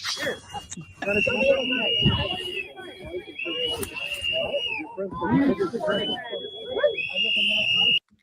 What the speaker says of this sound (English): That whistle is annoying as hell.